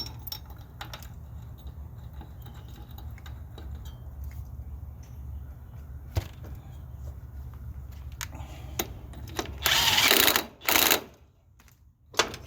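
A bolt being fastened back into a Troy-Bilt mower during a drive belt replacement, a close series of quick metallic clicks and ticks ending in a couple of louder, rougher bursts.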